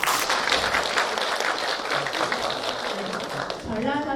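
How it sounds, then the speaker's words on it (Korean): A hall audience at a welfare forum claps to welcome guests in a dense, steady round of applause that fills the stretch, with a voice speaking over it near the end. "한 분 한 분 호명해드릴 때마다 따뜻한 박수로 환영해 주시면 감사하겠습니다"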